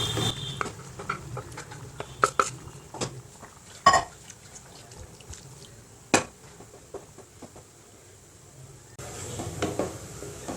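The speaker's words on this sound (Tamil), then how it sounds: "பருப்பு ஊற்றியாச்சு." Cooked lentils poured into simmering sambar in a pot, then stirred: soft liquid patter and wet plops with several sharp clinks of a spoon against the pot, close and moderately quiet.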